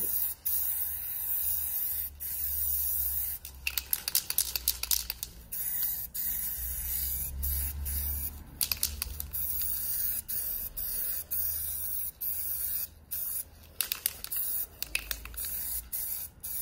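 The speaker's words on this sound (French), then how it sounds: "Donc là, peinture blanche, en fait. Je fais la bombe pendant 30 secondes." White paint sprays from an aerosol can in a quick first coat, with repeated close hissing bursts of varying length and short breaks between them, with no speech.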